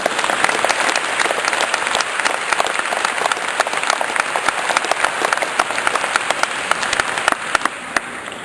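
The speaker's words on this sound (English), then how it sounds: "So if we could give a big clap for" An audience claps at a community event, a dense, sustained round of applause from many hands that carries on evenly without letup.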